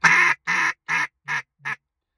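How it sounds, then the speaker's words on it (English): A duck call blows a greeting call of five separate, loud, nasal quacks in a steady rhythm, each one shorter than the last, ending in a brief clipped quack before silence. "when you get to the back end of your greeting call, it's just a really short quack"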